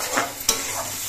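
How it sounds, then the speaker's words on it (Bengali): Spice paste for a katla fish curry sizzles hard in a pan while being stirred, a dense close frying hiss with one sharp scrape of the spoon midway. "এবার সব মশলা একসঙ্গে বেশ কিছুক্ষণ কষিয়ে নিতে হবে।"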